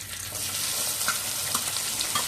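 Whole spices and asafoetida sizzle in hot oil as a tempering is cooked for Kathiyawadi dum aloo, a steady close frying hiss with occasional soft pops and stirring, no voices.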